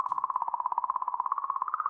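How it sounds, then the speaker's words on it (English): Sonified recording of comet 67P: a steady, warbling mid-pitched tone that pulses rapidly and evenly, with a faint chirping quality, sustained alone throughout. "This is what a comet sounds like."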